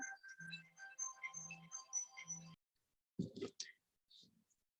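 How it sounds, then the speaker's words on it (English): A phone ringing indoors near a sewing machine, a repeating electronic melodic ring in several short bursts, then a brief clatter and faint sounds. "Oh, phone's ringing."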